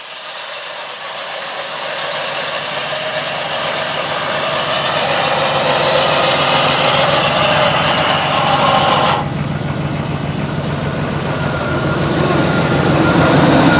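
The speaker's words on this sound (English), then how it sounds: "with our winch motor cooled down now, we can resume the process" An electric WARN winch motor runs steadily as it spools cable back onto the winch drum during a recovery re-spool, a continuous mechanical whine and drone that grows slightly louder and holds for the whole stretch.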